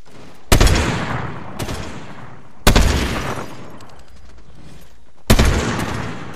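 Three loud, booming sniper rifle shots in a video game, evenly spaced a couple of seconds apart, each with a long decaying echo tail and a faint mechanical clack between the first two.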